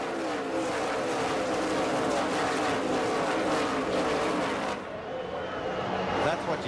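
NASCAR race cars stream down the front straightaway under the lights with fans watching, a dense, continuous roar of engines close by, with commentary running underneath.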